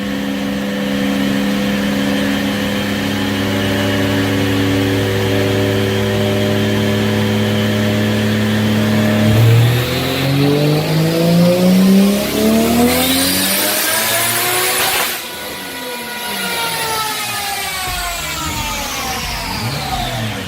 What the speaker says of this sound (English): Here we go, dyno pull 2.